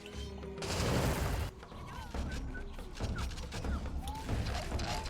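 Rapid sustained minigun fire in the shooter game Serious Sam 2, a dense loud burst in the first second and a half, then scattered shots and game effects with voices talking over them.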